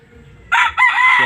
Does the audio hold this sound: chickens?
yes